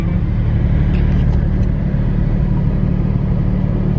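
A Porsche heading onto the track at the Porsche Experience Center Los Angeles gives a steady, loud engine rumble from inside the car, with no shifts or surges across the whole stretch.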